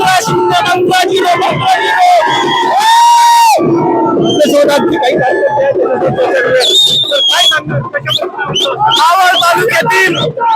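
Party workers of Ajit Pawar's NCP celebrate a Zilla Parishad election win in Maval: a loud, continuous crowd roar with shrill whistles, whoops and yells, people talking and shouting throughout.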